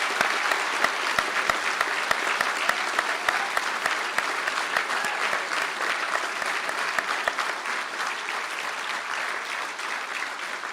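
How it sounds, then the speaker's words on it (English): Sustained applause from a seated audience at a university conferring ceremony in Galway, honouring mechanical engineering graduates, with dense steady clapping that holds at an even level throughout with no speech over it. "please stand for a deserved round of applause"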